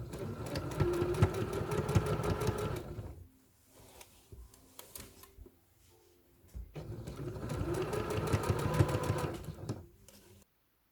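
A sewing machine stitches carefully around the curved edge of a garment facing at the neckline, in two running bursts separated by a quieter pause with faint handling clicks.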